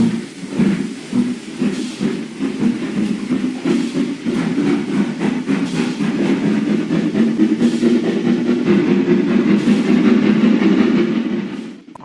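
A train engine hauling goods wagons rumbles close by, wheels clacking rhythmically over rail joints as the wagons roll along, steady and loud throughout.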